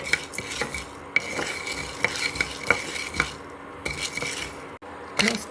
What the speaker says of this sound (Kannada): ಮೆಂತ್ಯ ಐವತ್ತು ಗ್ರಾಮ್ ಸಾಸಿವೆ ಎರಡು ಒಂದೆರಡು ನಿಮಿಷ ಉರಿಯೋಣ